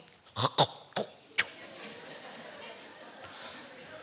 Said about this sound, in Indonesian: waktu itu dia berludah begitu